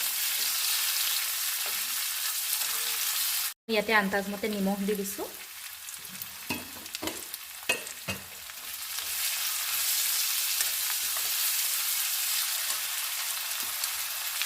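Tomatoes with onion and garlic fry in a pan with a steady, close hiss and sizzle, broken by a brief cut and occasional stirring clicks, while someone speaks briefly over it.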